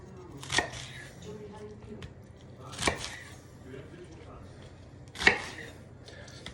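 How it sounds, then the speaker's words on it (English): A knife cuts leeks lengthwise into quarters, landing three crisp chops on a board a couple of seconds apart, with faint quiet handling in between. "Now, I go ahead and cut the leeks one more time so that I'm basically cutting them in quarters lengthwise"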